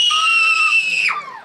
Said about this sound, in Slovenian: morate zakričati ful glasen